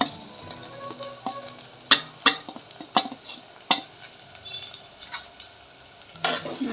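Tomatoes sauté in oil with curry leaves and garlic for a fish curry, a low sizzle broken by loud, irregular spatula knocks and scrapes close by.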